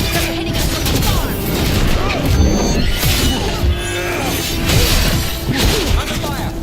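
Dense, continuous video game gunfire and explosions, enemies shooting from a distance on nightmare difficulty, with rapid overlapping shots and booms filling the whole stretch at high volume.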